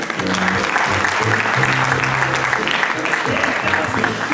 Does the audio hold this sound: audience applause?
yes